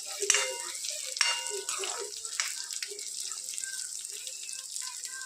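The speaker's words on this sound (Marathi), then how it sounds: "एक 4-5 मिनिट याला चांगलं फ्राय करून घ्या." Bitter gourd pieces frying in hot oil in a pan give a steady, close sizzle full of fine crackles and small pops, with no talking.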